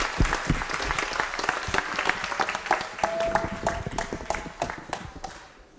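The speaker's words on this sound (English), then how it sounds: "So I would like to ask for a warm applause for panelists." A conference audience applauds the panelists after a blockchain panel discussion, with many hands clapping in a dense, sustained burst that fades slightly at the end.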